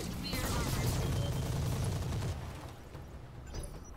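Mech weapons firing in the video game Roguetech: a loud dense fusillade of rapid gunfire and mechanical clatter for about two seconds, then fading into quieter scattered impacts.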